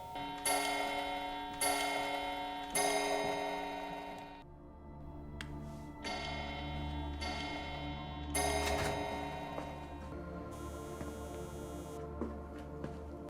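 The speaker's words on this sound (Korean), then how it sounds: "시계 소리로 범행 시각을 알 수 있겠네요" In a Korean crime drama scene, a clock ticks and chimes in a regular beat of bright, ringing strikes about a second apart, fairly loud and close, with quieter gaps and no speech.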